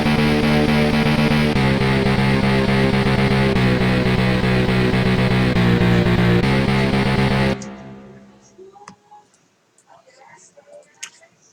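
A melody recreation played back as a dense, loud synthesized passage with layered parts, cutting off abruptly after about seven seconds into near silence with a few faint ticks and clicks.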